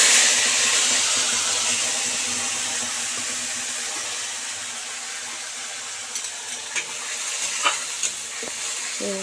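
Paste of onion, garlic, ginger and chili sizzling in oil, with a steady frying hiss and occasional stirring scrapes and clinks toward the end, close and untouched by speech.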